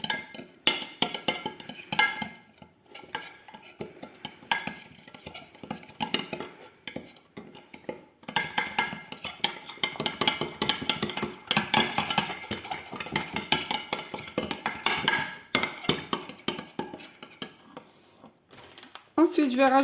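Ingredients are mixed in a bowl in a home kitchen, with repeated quick clinks and scrapes of a utensil against the bowl in irregular bursts. A voice speaks at times between the strokes.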